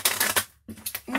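A deck of cards riffles and slides in quick bursts of papery flutter, close and moderately loud, split by a brief pause near the middle.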